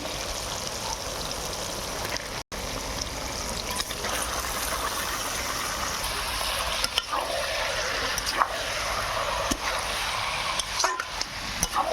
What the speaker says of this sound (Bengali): মশলা হয়ে গেছে কষানো এবার চিকেন দিয়ে দেবো